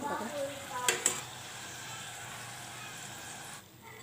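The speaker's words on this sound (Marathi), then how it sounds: "बघा आवाज कसा असं कडकडीत तेल टाकलं पाहिजे।" Jalebi frying in hot oil makes a soft, steady sizzle, with a few sharp clinks of utensils near the start, and it fades out at the end.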